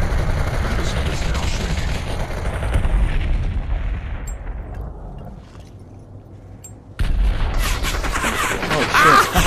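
Bursts of rapid gunfire in the VR shooter Population One on the Metropolis map, loud and continuous at first, fading to a quieter lull, then returning sharply, with players talking over it.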